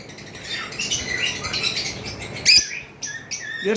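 Pet lovebirds, including a Pied male and a Lutino red-head, give shrill, scratchy chirps and squawks in quick overlapping bursts, with one sharp louder call midway and scattered calls after.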